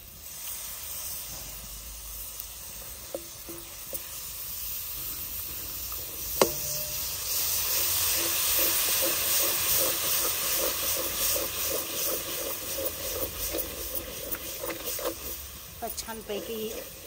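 Masala sizzles and hisses steadily in a pan on an Indian stove once yogurt is stirred in for a Maharashtrian bhuna gravy, the frying swelling louder midway and holding close and continuous, with a single sharp knock near the middle.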